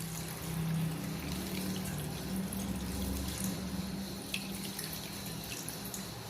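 Water runs steadily from a tap while millet is rinsed and strained in a sieve to wash away the bran, a continuous splashing trickle close by with no talking.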